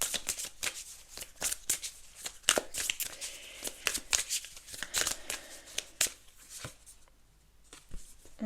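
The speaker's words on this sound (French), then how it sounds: "On va tirer un oracle du destin sacré pour votre tirage les cancers" Oracle cards shuffled by hand for a tarot-style reading: a brisk, close run of crisp riffling snaps and slides that repeats in bursts, thinning out near the end.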